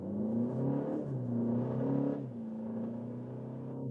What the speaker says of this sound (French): Bonne accélération sur l'autoroute